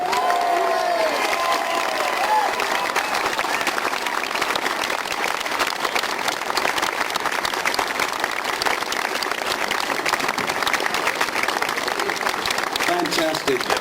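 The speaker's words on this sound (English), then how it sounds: "And a big round of applause when it comes off" Crowd applause and cheering at an outdoor blue plaque unveiling for Pete Ham, dense clapping sustained throughout with scattered shouts and voices mixed in.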